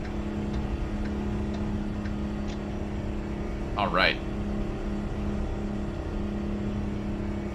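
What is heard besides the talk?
old Mack truck engine driving, from video game American Truck Simulator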